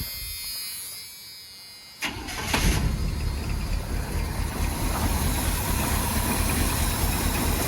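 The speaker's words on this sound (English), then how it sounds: "we'll have to do some adjustments to the idle, but it's running" A Chevrolet K10 truck engine fires up around two seconds in, then holds a loud, steady, rough idle with broadband roar, heard alone without voices.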